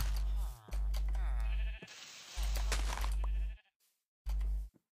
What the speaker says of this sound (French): Ils sont tous barrés déjà les moutons quoi.